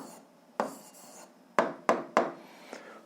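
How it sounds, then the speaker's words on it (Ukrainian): Pen on paper writing out an algebra answer, a few short scratchy strokes and taps separated by brief pauses, close and quiet. "Пишемо відповідь."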